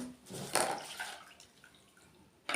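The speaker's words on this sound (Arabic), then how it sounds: "احط حبه ميه كده" A little water is poured during the preparation of restaurant-style pickled eggplant, giving a short, soft splash and trickle followed by quiet, then another brief splash.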